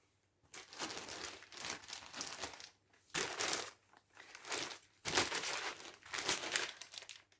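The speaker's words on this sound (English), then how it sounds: "some of these are in plastic and there's going to be some crinkling." Plastic packaging around stitch-along needlework projects crinkles and rustles in several close bursts with brief pauses between handlings.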